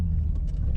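Low, steady rumble from a Nissan 300ZX engine heard from inside the car while cruising through a U-turn on the road, continuous and fairly loud with no talk over it.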